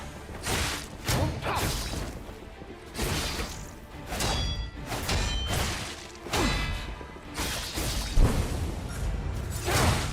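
Boss fight in the video game Lies of P, with repeated whooshing swings, heavy thuds, crashes and shattering impacts from umbrella attacks and explosions, arriving in loud, spaced bursts.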